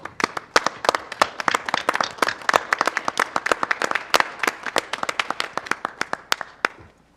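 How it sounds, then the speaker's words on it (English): A school board session audience stands and claps for an accomplishment, a brisk run of sharp, close handclaps sustained for several seconds before tapering off at the end. "if we would just stand and clap for a great accomplishment for Dylan"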